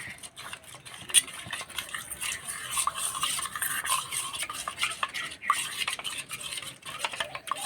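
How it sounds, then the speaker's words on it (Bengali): A spoon stirs thin batter of flour and water in a bowl for prawn cutlets, with repeated wet scraping and clinking against the bowl in an irregular, close rhythm, no speech. "ভালো করে মিশিয়ে নেব এবার জল দিয়ে গুলে নেব আর এই গোলাটা একটু পাতলা হবে"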